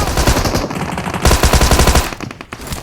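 A Thompson submachine gun fires in the mobile game BGMI. Loud, rapid automatic bursts are broken by brief pauses, and the shots are sharp and close.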